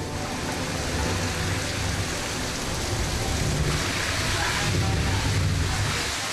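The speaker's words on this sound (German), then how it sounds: "Nun hat das Gewitter die Stadt erreicht. Ein tropischer Regen ungeahnten Ausmaßes." Heavy tropical rain from a thunderstorm pours down over a town in Sri Lanka as a dense, loud, unbroken roar with low rumbling beneath, swelling slightly toward the end.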